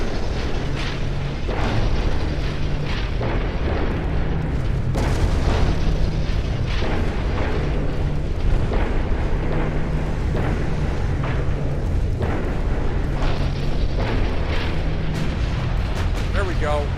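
Naval gun shells from 11-inch guns slam into a heavy cruiser in a naval warfare video game, a dense barrage of heavy booms and blasts over continuous battle rumble, with a voice talking throughout.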